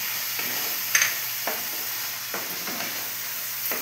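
Capsicum and tomatoes fry in a pan with a steady close sizzle, while a utensil stirs and scrapes through them in several distinct strokes.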